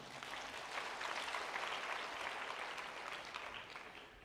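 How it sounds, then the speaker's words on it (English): An audience claps steadily for about four seconds at an evening talk on intimacy for couples. The applause is dense and even, fairly faint and distant in a room, with no voices over it. "You can clap for Levi."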